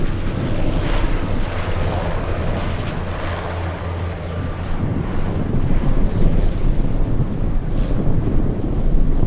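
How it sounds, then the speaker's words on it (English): A Douglas DC-3 moves along the ground at Anchorage airport, a steady propeller-engine drone heard from a distance under gusting wind noise, swelling slightly toward the end. "All right, DC-3 on the move."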